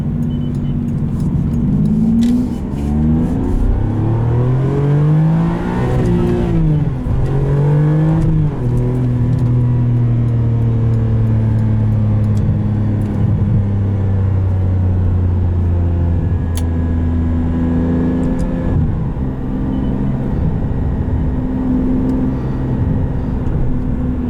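A 2002 Ferrari 575M heard from inside the cabin as it drives and accelerates, the engine note climbing through the revs, dropping at shifts, then holding a steady loud drone for a long stretch.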